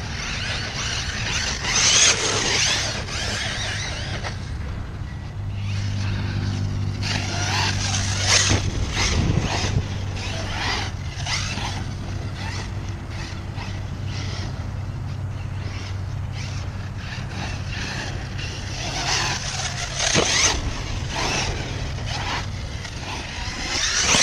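An Arrma Talion 6s RC car drives outdoors, its motor whining unevenly amid scraping and crunching of tires over rough ground at moderate distance.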